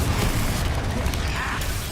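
A Confringo fire-spell blast in the video game Hogwarts Legacy, a dense, loud burst of booming, crackling game sound that fills the whole moment with rumbling low end and scattered pops.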